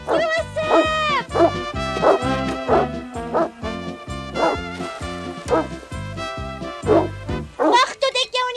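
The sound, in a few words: dog barking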